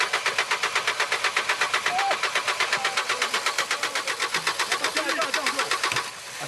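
A vehicle engine in the Gabon forest is started after perfume is injected into it, turning over with a steady, rapid rhythmic chugging for several seconds before easing off, while voices murmur faintly underneath.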